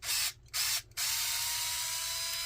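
Screws are driven in to cut threads in a Suzuki Jimny RC model, a close, loud whirring burst that stops twice, then runs continuously for the rest.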